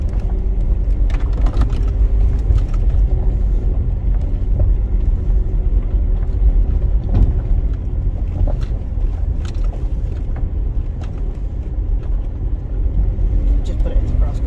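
A Land Rover Freelander drives over ice with its wheels spinning, giving a continuous loud low rumble and roar with scattered knocks and crunches across the whole stretch.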